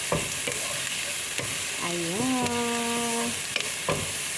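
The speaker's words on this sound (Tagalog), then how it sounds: "halo-haloin po natin" Food fries in a pan and is stirred, with a steady close sizzle and light scraping strokes throughout. A voice speaks briefly partway through.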